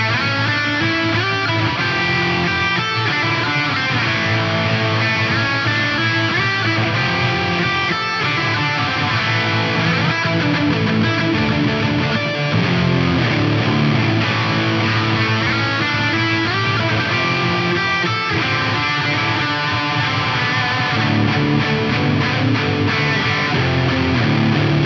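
A Strymon Big Sky reverb pedal with the decay turned up smears guitar playing into a dense, wide, continuous wash of sustained tones that stays loud and full the whole time.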